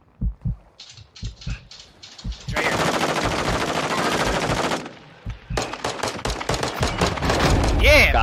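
Gunfire in the Warzone 2.0 video game: bursts of rapid automatic fire and single shots, close and loud, with a long sustained stretch of shooting and players talking between volleys.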